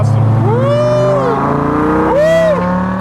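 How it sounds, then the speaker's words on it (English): Dodge Viper V10 with side exit exhaust, convertible, droning loudly and steadily close by, with two rising-and-falling rev swells as the engine pulls. "The side exit exhaust and the convertible combo is awesome."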